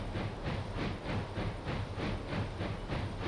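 Steam locomotive in the EEP train simulator game, heard as a steady rhythmic chuffing with regular pulses about every third of a second over a continuous hiss, moderately loud and alone.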